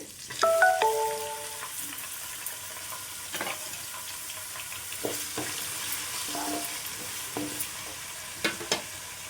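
Chopped tomatoes go into a pan of beans curry with curry leaves, setting off faint sizzling and frying, with a spoon stirring and clinking in scattered scrapes throughout.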